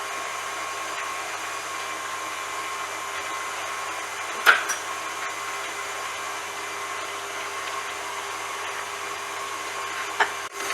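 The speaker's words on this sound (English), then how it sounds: "the egg and sugar mix is still beating quite fast" An electric mixer beats an egg and sugar mix for a chocolate quatre-quarts cake with a steady, even whir that holds unchanged throughout, broken by two brief knocks of the beaters against the bowl.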